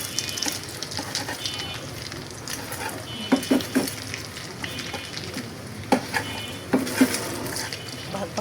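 An egg fries in overheated oil, a steady loud sizzle with occasional pops and a few clinks of a utensil against the pan.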